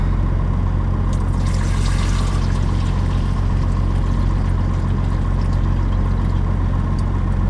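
Water is poured into a coffee maker in a steady continuous stream, a loud rushing splash that holds evenly throughout with no voices.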